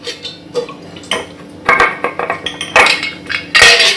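Metal idli plate set down into a metal idli cooker, giving several sharp clanks and clinks of metal on metal, close and fairly loud, with no talk.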